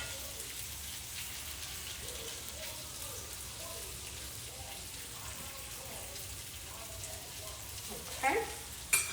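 Smoked sausage with peppers and onions frying in a pan, a steady close sizzle and crackle with brief clatters of stirring near the end.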